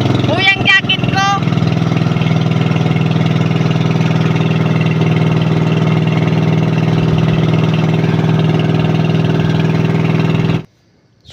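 A motor engine idles steadily and loudly after being started, with a low constant drone throughout. Brief voices come at the very start, and the engine cuts out abruptly near the end.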